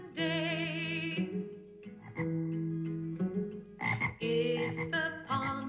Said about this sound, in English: He's croaking night and day.